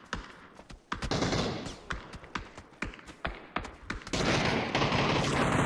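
Video game gunfire in a squad shooter: repeated sharp bursts and single shots, some in quick clusters, loud and close amid player movement.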